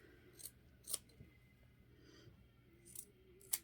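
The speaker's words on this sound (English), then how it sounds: "Just kind of clip some of this extra stuff off up here around the head." Scissors snip away excess sock fabric around the head of a handmade sock cat toy, several sharp separate clicks spaced out over a quiet background.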